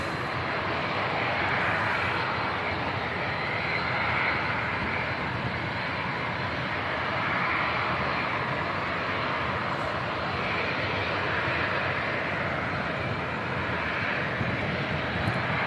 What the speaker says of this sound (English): Couple of props on the way out now. Got the Aer Lingus ATR and also the Pilatus.